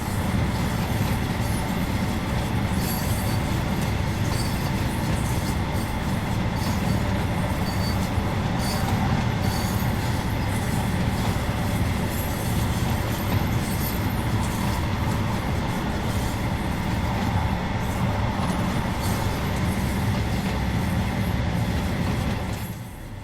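A Class 150/2 diesel multiple unit in a train simulator rolls downhill under light braking toward a seaside station, giving a steady loud rumble of wheels on rail with rhythmic clicking and faint squeal throughout, no talking.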